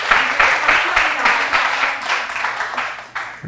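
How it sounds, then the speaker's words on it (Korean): An audience at a healing camp lecture applauds, with a brisk, fairly loud burst of many hands clapping that pulses unevenly and dips near the end. "이럴 때도 보통 박수를 하고 그렇게 합니다."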